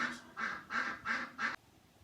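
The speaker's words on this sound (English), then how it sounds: "My ducks are outside." Ducks outside give five evenly spaced, loud quacks in a quick steady rhythm, then fall silent.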